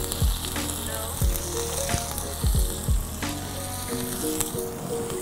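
Mushrooms hit a hot pan with olive oil and sizzle loudly, several sharp bursts as pieces drop in, then a steady close crackling fry with no talking.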